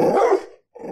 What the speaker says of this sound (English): Why do I hear a dog?